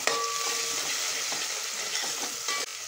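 Finely chopped medium onion dropped into hot oil for a Malvani chicken curry, giving a steady loud sizzle with light stirring scrapes throughout and no talking.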